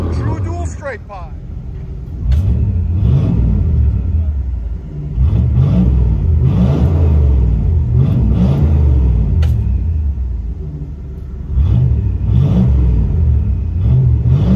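A 1986 Chevy Caprice Classic with a 305 V8 and true dual straight-pipe exhaust revs repeatedly, its loud, deep rumble rising and falling in rhythmic bursts while voices talk nearby.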